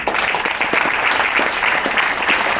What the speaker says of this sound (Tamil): அதனால குபேர கைத்தட்டல் எப்படி இருக்கணும்னா நல்லா கையை இப்படி உயர்த்திக்கணும்.